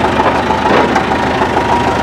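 A Massey Ferguson MF385 tractor engine runs steadily at about 1600 RPM during a field test, giving a loud, close, continuous diesel drone with a slight knocking pulse and no talk.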